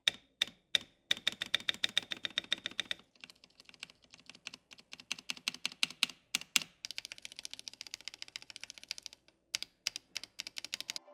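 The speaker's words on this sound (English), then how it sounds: "Spam these keys to check for rattling and instability." Shift and other stabilized keys on a MODE Eighty TKL hot-swappable keyboard are pressed rapidly and repeatedly in bursts to test for rattle, crisp clacking strokes with brief pauses between runs, close and clear.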